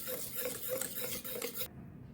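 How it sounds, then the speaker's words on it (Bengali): Cake batter for a Christmas dry fruit cake being stirred right after baking soda goes in: quick, rhythmic scraping strokes of a spoon against a bowl, close and steady, then they stop abruptly near the end. "বন্ধুরা, এখন দিয়ে দিচ্ছি ছোট চামচের 1 চামচ বেকিং সোডা। এটাও ভালো করে নাড়িয়ে নেব।"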